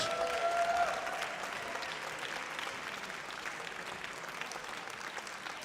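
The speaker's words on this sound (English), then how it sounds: "put your hands together for our women's singles English Open champion, Dominika Turkovic." An audience at the English Open championship court applauds the women's singles champion, steady dense clapping with faint crowd noise that stays even throughout.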